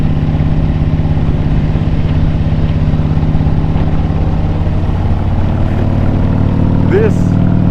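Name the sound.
Harley-Davidson Street Glide motorcycle, 124 cubic inch engine, riding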